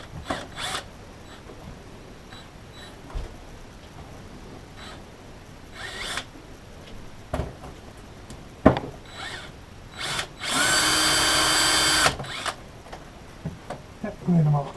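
A power drill whirs in one steady burst of about two seconds, preceded by scattered clicks, knocks and tool handling, close by.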